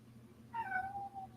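A cat meows for food, one drawn-out, wavering meow lasting about a second, close and fairly loud over a quiet room with a low hum.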